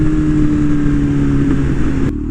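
A 2023 Kawasaki Z900 motorcycle fitted with an SC Project exhaust idles in neutral, a loud, steady, deep burble with a sustained low tone that drops off abruptly near the end.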